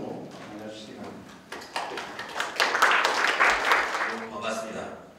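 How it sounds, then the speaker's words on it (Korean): Audience applause at a university law school seminar welcoming the dean, starting as scattered claps and swelling into a fuller round before tapering, with a voice audible under it. "원장님 박수로 맞아주시기 바랍니다."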